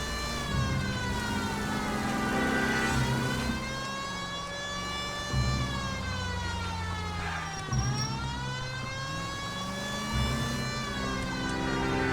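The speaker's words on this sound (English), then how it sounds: "it's just that siren, or that's the only siren" A police car siren from the video game L.A. Noire wails continuously, rising and falling in long sweeps, loud and close, with engine rumble underneath and no talk.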